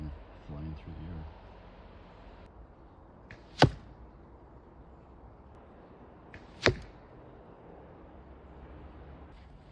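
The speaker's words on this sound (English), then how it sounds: "how does your arrow sound flying through the air?" Two arrows shot from a bow at an outdoor range, a field point and then a three-blade fixed broadhead, each passing as a brief sharp whoosh several seconds apart over steady wind and background noise.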